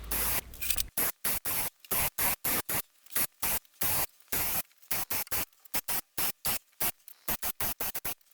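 Bursts from a Graco Ultramax airless paint sprayer coating workshop drawers: a loud, close, hissing spray switched on and off in short, regular pulses separated by near-silence.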